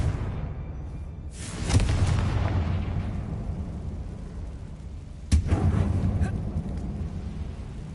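A Confringo fire spell bursts in Hogwarts Legacy inside an abandoned mine tomb, with two loud booming explosions a few seconds apart, each followed by a rumbling, crackling decay.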